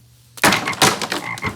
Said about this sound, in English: God is gonna send frogs.